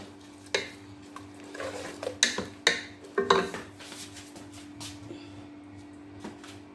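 A spoon scrapes and knocks against a pot while ugu leaves are stirred into nkwobi, with a cluster of sharp clanks in the middle and softer scraping before and after. The sounds are close and fairly quiet.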